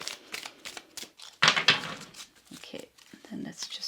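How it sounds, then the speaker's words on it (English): Tarot cards shuffled close by in irregular papery riffles and taps, with one louder burst of flicking partway through, while a voice talks over the handling. "I want to shuffle a little bit more, and I'm going to look at your tarot cards here."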